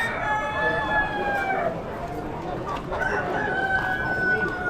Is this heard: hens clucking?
yes